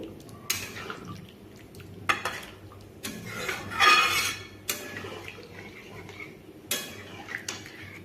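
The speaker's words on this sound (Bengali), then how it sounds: "জল দেবার পরে একটু এইভাবে মশলার সঙ্গে জল সব ভালোভাবে মিশিয়ে নেব" Spoon scraping and clinking in a pan while water is mixed into spices for a tangra fish curry, with scattered knocks and wet stirring sounds close by, no voices.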